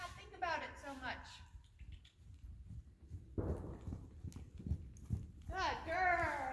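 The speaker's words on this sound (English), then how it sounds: "Something that might make this easier for Glisten is to go faster over the obstacle and not think about it so much." A pony's hooves clip-clop in a short run of close, distinct strikes as it crosses an obstacle. A person talks before and after the hoof beats.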